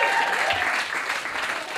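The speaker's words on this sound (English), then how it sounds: "Round of applause, everyone." Comedy club audience applauding as a stand-up comic takes the stage, a brief burst of dense clapping that stays loud and fairly close throughout.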